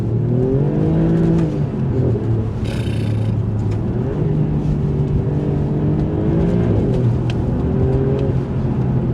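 An Alfa Romeo Giulia Quadrifoglio engine drones steadily from inside the cabin while driving, a low continuous note that rises and falls slightly with throttle, loud and unbroken throughout.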